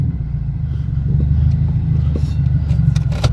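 A Toyota Camry idles at a car wash, a steady low engine rumble holding close and even throughout, with a few faint clicks and hisses above it and no talking.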